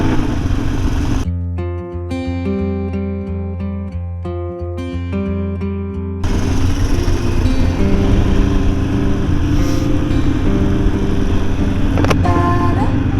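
A 2022 Harley-Davidson Forty-Eight motorcycle accelerates to overtake. A loud, steady engine drone builds into a rougher, wind-buffeted roar as the bike pulls past.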